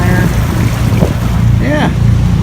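A motorboat on a river is throttled up to spin around, its outboard engine droning loudly and steadily with wind buffeting the microphone and brief rising whines as the throttle changes.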